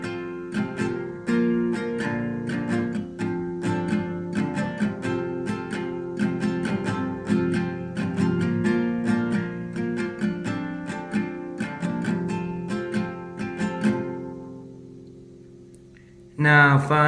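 An acoustic guitar strums the chord progression of a song in a steady, busy pattern for about fourteen seconds, then rings out into near silence before one more strum at the end.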